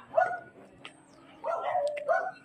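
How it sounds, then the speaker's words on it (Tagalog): A dog gives a short bark, then a longer whining, yelping vocalization follows, moderately close with faint background sounds. "At may mga aso pa."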